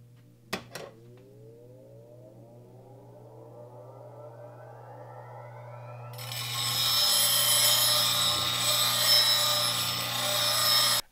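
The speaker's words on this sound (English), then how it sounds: "So now I'm gonna turn on the grinder." A bench grinder spins up with a rising whine, then grinds loudly and steadily as the curved wings of a woodturning bowl gouge are sharpened in a Vari-Grind jig.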